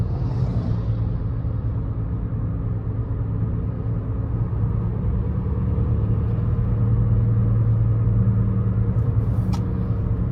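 A 2017 Toyota Corolla SE engine pulling under throttle, heard from inside the cabin as a steady, loud, low rumble and engine drone that holds constant, with no talking.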